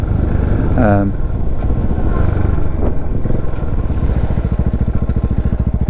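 A Triumph Bonneville motorcycle rumbles along at steady speed, its low throbbing engine pulse and wind roar continuous and close, with someone talking over the ride.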